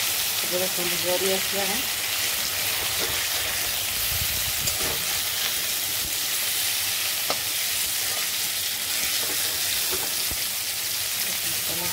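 Bitter gourd (karela) frying in a pan over a high gas flame, giving a loud, steady, dense sizzle throughout, with occasional stirring clinks and someone speaking briefly over it.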